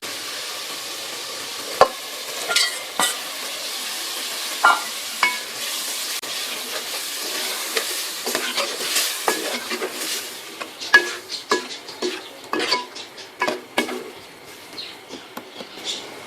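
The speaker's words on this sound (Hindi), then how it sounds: "अब इसमें जो हमने बॉईल किए हुए सफ़ेद चने थे वो इसमें डालेंगे।" Boiled white chickpeas dropped into fried masala and stirred in a pan give a soft background sizzle, then a busy run of sharp scraping and clinking strokes that grows denser toward the end, with no talking.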